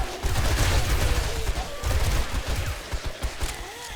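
Rapid bursts of gunfire in the zombie survival game 7 Days to Die, Rebirth mod, with heavy low thumps in dense volleys that thin into scattered shots toward the end.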